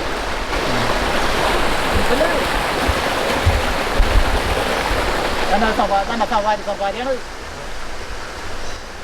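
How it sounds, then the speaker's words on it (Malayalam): Continuous rushing of a small stream of falling water on the Meenachil River in Vagamon, broad and steady, with a person talking over it partway through. "ചെറിയൊരു വെള്ളം വീണ സൗണ്ടാണ് ഈ കേൾക്കുന്നത്"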